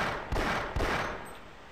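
Gunfire in the video game Half-Life Source: two loud, sharp gunshots about half a second apart, each followed by a short decaying rumble, with no talking.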